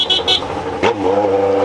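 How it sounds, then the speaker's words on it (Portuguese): Heavy city traffic on an eastern radial road, with a car horn tooting twice at the start and engines rumbling and a vehicle revving close by, continuous and loud. "Trânsito pesado"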